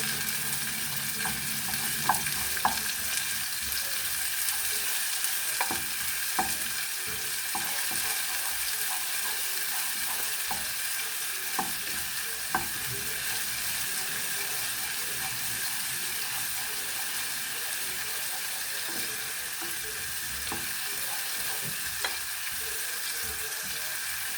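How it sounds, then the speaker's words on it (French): Onions frying dry in a pan without added fat, a continuous close sizzle under repeated clacks and scrapes of a utensil stirring them, steady and fairly loud throughout. "Allez, là on met les oignons. On va les remuer."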